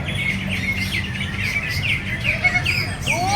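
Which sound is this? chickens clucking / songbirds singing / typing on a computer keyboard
songbirds singing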